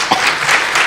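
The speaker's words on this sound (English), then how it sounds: "please give a round of applause" Audience applause at a physiology conference, a steady wash of clapping hands filling the short moment without any voices.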